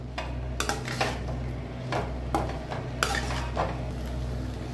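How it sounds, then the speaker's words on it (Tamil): Spiced powder being stirred into brinjal fry in a pan, with a utensil scraping and clinking against the pan in irregular strokes over a steady low hum, and a faint sizzle underneath. "இப்போ இந்த பொடி சேர்த்திட்டு நல்லா கலந்து விட்டுடலாம்"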